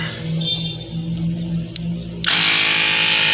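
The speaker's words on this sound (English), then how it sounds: "You see the tire's flat, the air compressor's on." A portable air compressor runs while filling a flat car tire, a steady motor drone that jumps to a louder, harsher hiss-rattle near the end, close and alone.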